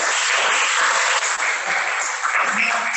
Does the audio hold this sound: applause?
yes